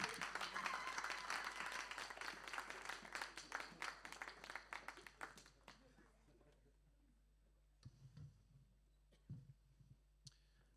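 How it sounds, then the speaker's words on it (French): A church audience applauds two actors after a short skit, with brisk, dense clapping for about five seconds that quickly dies away into near silence, followed by a few faint thuds and movement sounds. "Voilà, on peut applaudir nos 2 acteurs."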